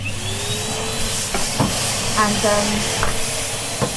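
A hoover vacuum cleaner runs on a floor with a continuous loud hiss and whine, pushed back and forth with occasional bumps and knocks.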